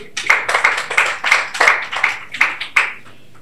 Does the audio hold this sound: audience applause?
yes